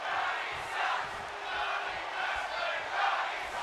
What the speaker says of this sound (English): the crowd got a bit of a chant going on there